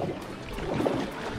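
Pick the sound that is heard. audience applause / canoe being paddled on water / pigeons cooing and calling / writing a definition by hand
canoe being paddled on water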